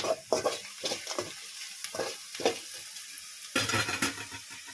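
Browned onions fry in rice bran oil with a bright sizzle, while repeated bursts of stirring and spatula scrapes against the pan come close and loud, with short gaps between them.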